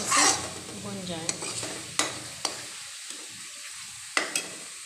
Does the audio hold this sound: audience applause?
no